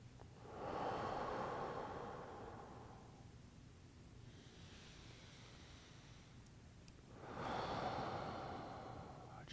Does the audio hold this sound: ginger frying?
no